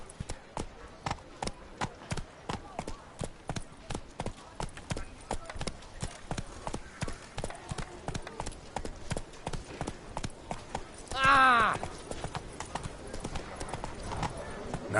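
Rhythmic hoofbeats of the horse Roach galloping in The Witcher 3, steady and fairly loud, with a short voice line cutting in near the end.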